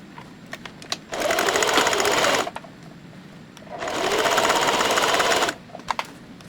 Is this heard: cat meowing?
no